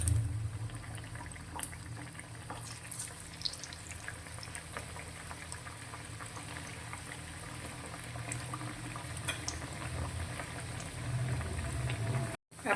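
Onion tikdi bhajiya fry in hot oil, giving a steady, close bubbling sizzle with small crackles throughout, alone with no talk.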